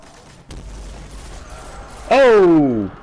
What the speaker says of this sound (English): I'm going to stay in the back and shoot from safety a little bit